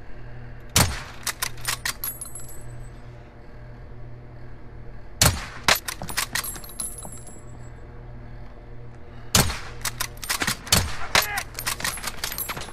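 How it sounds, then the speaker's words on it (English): Bursts of gunfire from a shooting video game featuring the Kar98 rifle ring out in three loud clusters of sharp cracks, each a tight volley of rapid shots separated by a few seconds of low background hum. "Where are you getting shot from?"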